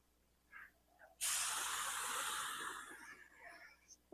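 A paint spray gun coating a car lets out a sudden, loud, steady hiss of airy spray lasting about three seconds, then cuts off, with faint quieter puffs before it.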